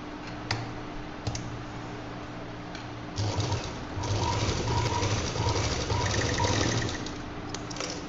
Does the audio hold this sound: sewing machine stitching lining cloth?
yes